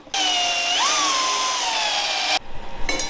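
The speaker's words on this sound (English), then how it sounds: "We're just gonna drill this screw out." A power drill whines loudly and steadily for about two seconds, drilling out a rusty screw on a Jeep, its pitch dipping slightly under load before stopping, followed by brief rattling.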